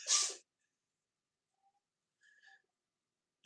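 A cat sneezes once, a short sharp burst close by at the start, followed by faint chirps and near silence in a quiet room.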